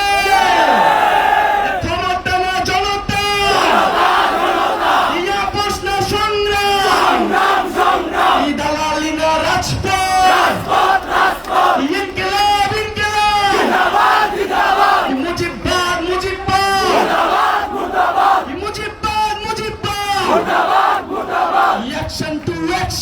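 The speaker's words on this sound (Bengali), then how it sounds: "চট্টগ্রামবাসী কি স্লোগান দেবে?" A large political rally crowd in Chittagong chants slogans in loud, rhythmic call-and-response, a leader's amplified voice alternating with the crowd's roaring replies in repeated cycles.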